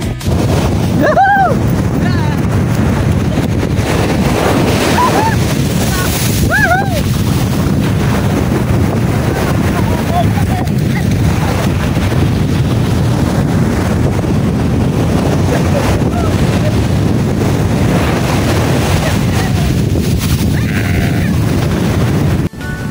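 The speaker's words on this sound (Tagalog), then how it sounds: "talaga namang lumalaki na yung mga alon" Steady roar of growing waves washing onto a beach at General Nakar, Philippines, mixed with gusty wind buffeting the microphone, with a few faint brief voices.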